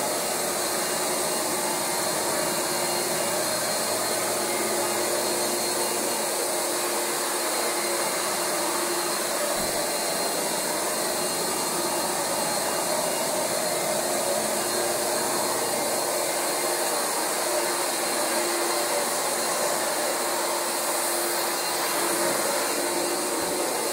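A Rug Doctor carpet cleaning machine runs nonstop on damaged carpet, its loud, steady motor whine and suction roar filling the space with barely any change.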